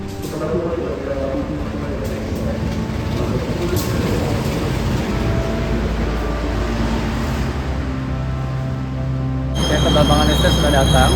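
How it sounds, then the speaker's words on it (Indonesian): An Argo passenger train rumbles steadily through Jatinegara station, with wheels screeching on the rails amid busy platform noise and a sustained tonal sound starting near the end. "Pasti bertemu dengan kereta api Argo Sido."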